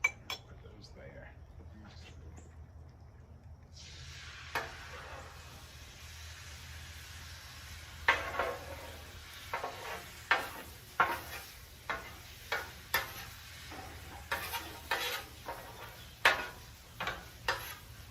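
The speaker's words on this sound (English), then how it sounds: "we'll go ahead and get these eggs. Get these one more good stir right quick." Eggs sizzling on a Blackstone griddle while a metal utensil stirs them, with a soft continuous sizzle and a run of sharp, regular scrapes and clinks against the flat top, close up.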